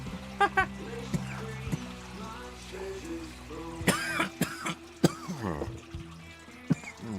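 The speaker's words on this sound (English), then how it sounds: "I coughed myself to death." A few sharp coughs burst out over a steady background hum, with faint voices and clatter around them.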